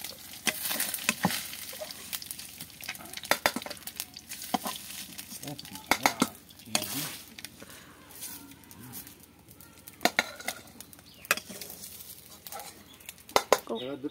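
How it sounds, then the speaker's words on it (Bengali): Fried fish lifted out of a frying pan into a bowl, giving repeated clinks and scrapes of utensil against metal and dish over a low sizzle, with sharp clatters scattered throughout at close range. "মাছটা তুলে বাটিতে রাখছি"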